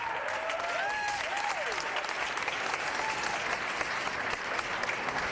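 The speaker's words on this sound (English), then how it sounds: "Please give a great round of applause to Chaka Fattah from Philadelphia." Steady, sustained applause from an audience at a brain health science symposium honoring Congressman Chaka Fattah of Philadelphia, dense clapping with faint tonal whistles or voices mixed in early.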